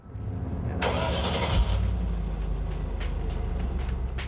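A car engine cranks and catches after a remote start on a busy winter street, a broad burst of cranking settling into a steady low idle that runs on outdoors.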